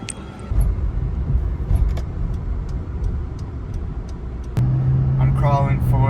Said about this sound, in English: Crawling forward in traffic now, just headed back on the way home.